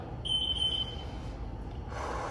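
An exercise timer sounds during a foam-rolling workout, a short series of high electronic beeps lasting about half a second, fairly clear over a low room hum, then quiet background.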